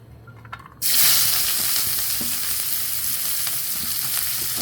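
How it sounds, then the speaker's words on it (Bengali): Chili, garlic and onion hit hot oil in a pan. After a brief quiet moment, a sudden loud sizzle starts and keeps up a steady, close frying hiss to the end. "এখন মরিচ রসুন পেঁয়াজ এগুলো হালকা একটু বাজ্যা নেব"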